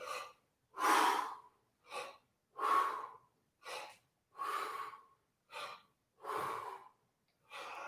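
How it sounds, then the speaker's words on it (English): Forceful breathing during a breath-squat exercise, a run of about eight sharp, loud breaths with short pauses between them in a steady rhythm, heard close and clear with no talking. "20 breath squats, here we go."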